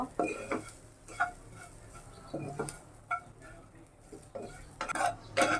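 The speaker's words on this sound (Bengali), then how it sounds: "এটা আমি আবার একটু নাড়াচাড়া করে নেব।" Spiced dried lotia fish stirred in a pan with a utensil, giving intermittent scraping clatters and soft sizzling, fairly close and moderately quiet.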